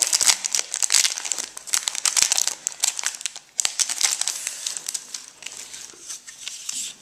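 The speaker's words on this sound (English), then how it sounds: "It's in a clear plastic bag." Clear plastic bag wrapped around a mattress package being handled, giving loud, continuous crinkling and crackling with dense, rapid rustles throughout, close up and without speech.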